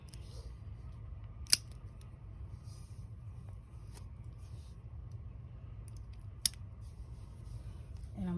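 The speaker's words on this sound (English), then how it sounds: "I'm gonna cut this off." Scissors snip crochet yarn in two sharp, brief cuts about five seconds apart, close and crisp above a faint, steady low rumble.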